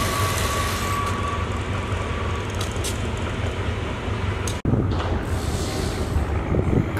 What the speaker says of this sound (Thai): ขบวนรถปรากฏตัวทางทิศใต้ของสถานีปากท่อครับเป็นขบวนรถธรรมดาที่254